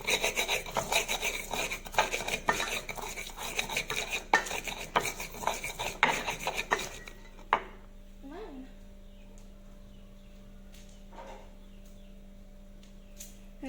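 Spices pounded and ground in a mortar while cooking papeda with yellow broth in Arso, Papua: dense gritty scraping and thudding strikes for about seven seconds, then only a few scattered knocks in near quiet.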